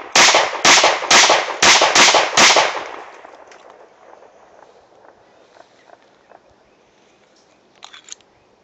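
An Astra A70 pistol fires seven loud, sharp shots in a quick, fairly even rhythm over about three seconds outdoors, then quiet handling noises and a faint click follow.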